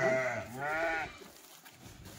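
Kathewadi sheep and goats packed into a vehicle let out two loud, close, wavering bleats in quick succession, followed by quieter shuffling.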